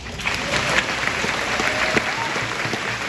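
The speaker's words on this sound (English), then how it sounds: "so you can go ahead and clap for that" An audience claps steadily and fairly loudly, the dense patter of many hands continuing without a break.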